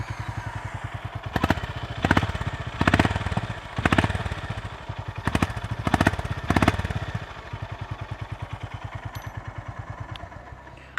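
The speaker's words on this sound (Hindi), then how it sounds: "मैं आपको एग्जॉस्ट नोट सुनाता हूँ।" An air-cooled 348cc Honda CB 350 RS motorcycle thumps steadily at idle with a close, even exhaust beat, broken by several short throttle blips that briefly raise the volume.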